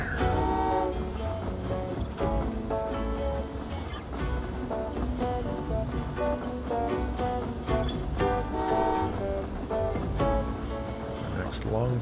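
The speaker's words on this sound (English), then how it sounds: "The next long train's coming already." A long train in a video game, Train Valley 2, rumbles past with a horn sounding, steady and loud throughout, while a voice talks over it.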